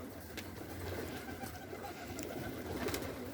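Soft pigeon coos repeat faintly over a low background murmur.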